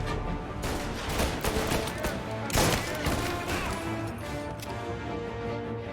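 Gunfire in the video game Mafia: Definitive Edition, a dense burst of overlapping shots and crashing impacts with a loud volley near the middle, over busy game noise.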